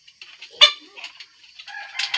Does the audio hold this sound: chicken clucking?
yes